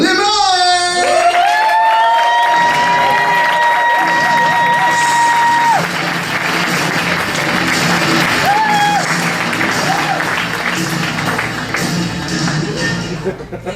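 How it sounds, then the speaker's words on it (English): A crowd applauds and cheers for a stand-up comic at a comedy set, steady clapping with whoops, while a short musical sting plays at the start and fades under the ovation. "Big round of applause for your celebrity comic, Luis Limon!"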